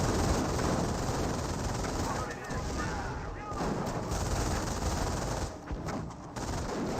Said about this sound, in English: now we do have a mortar emplacement, now firing away against these Schimwagens